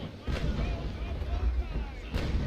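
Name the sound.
ship carronades firing broadside in video game Naval Action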